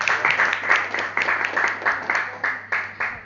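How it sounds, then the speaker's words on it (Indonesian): Audience applause at a product presentation of an agricultural nano fertilizer, a moderate burst of many hands clapping in uneven rhythm, filling the space for a few seconds with no voices over it. "Tepuk tangan dulu dong."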